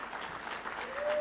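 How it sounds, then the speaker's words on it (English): A summit audience bursts into brief, dense applause, fairly soft and distant, continuing without pause through the short moment while a faint tone rises beneath it. "can you give him a round of applause"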